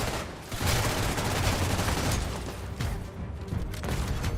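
A rogue artillery turret firing in The Division 2, dense rolling volleys of shots and blasts blending into a loud continuous barrage with no talking.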